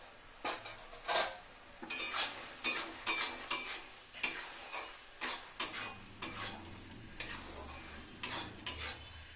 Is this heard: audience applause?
no